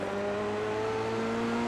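An Italian Formula 3 race car on a flying lap at Imola, its engine holding a steady, loud, high-pitched drone throughout with no talk over it.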